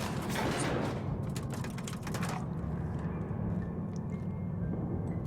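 An elevator in the video game The Outer Worlds runs with a steady low mechanical rumble and hum, with some rattling clatter in the first couple of seconds, continuous and close.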